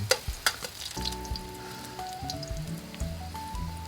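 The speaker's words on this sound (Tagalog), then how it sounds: "magigisa muna tayo para matanggal yung lansa. Unahin ng luya." Ginger sautéing in hot oil in a pan for squid adobo, a sizzle with sharp utensil clinks early on, while a steady tonal hum with shifting pitch runs beneath.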